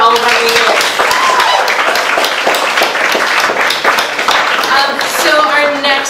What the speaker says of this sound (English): Let's have another round of applause for all of our readers.